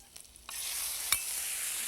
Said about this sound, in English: Can you hear the sizzling sound?